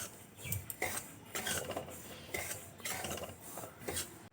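A spoon stirs dry milk powder into semolina in a bowl, making close, rhythmic scraping and rubbing strokes with light clinks against the bowl, with no voices.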